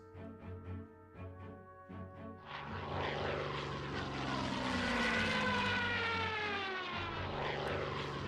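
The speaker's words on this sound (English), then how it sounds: "get our attack bomber over to deal with some of these" Attack bomber in the strategy wargame Hex of Steel, heard as a propeller aircraft engine drone that starts as a pulsing rumble, then swells into a loud, sustained roar passing close by.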